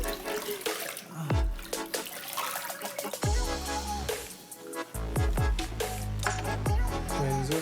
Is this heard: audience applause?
no